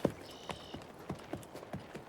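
Horse hooves clip-clop in a steady, moderately close rhythm of about four strikes per second, with no talk over them.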